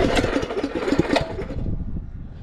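A go-kart's small engine sputters and revs in rough, uneven bursts close by as it starts, then cuts out, leaving quieter rumbling before a sharp click at the end.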